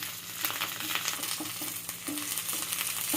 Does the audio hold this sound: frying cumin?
yes